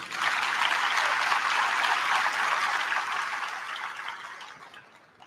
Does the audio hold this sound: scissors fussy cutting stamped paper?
no